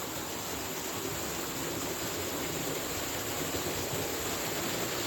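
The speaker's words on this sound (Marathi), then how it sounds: "आणि वरतून जे पाणी पडतंय ओव्हरफ्लोचं," Overflow water pours from above into a three-hundred-year-old stone stepwell, heard as a steady broadband rush of falling water, even and unbroken throughout.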